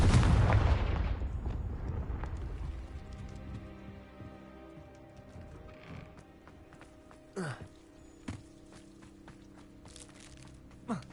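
Confringo fire spells in the game Hogwarts Legacy: a loud booming blast opens, rumbling and fading over a few seconds, followed by a quieter stretch with several sharp cracking impacts near the end.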